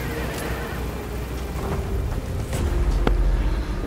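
A horse in Metal Gear Solid V: The Phantom Pain gives a whinny over a busy game soundscape of low engine rumble and scattered clip-clop hooves, with brief sharp effects near the end.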